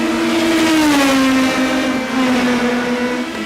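Loud, steady engine whine of an Indy Pro 2000 race car in iRacing at North Wilkesboro Speedway, a high sustained note dipping slightly in pitch as it holds close and continuous.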